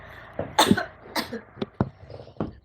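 A person with a lingering cough lets out a couple of close, forceful coughs, then a few shorter, softer hacks and throat clears in an uneven rhythm.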